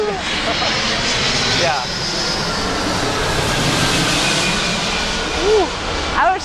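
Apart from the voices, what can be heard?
airplane flying overhead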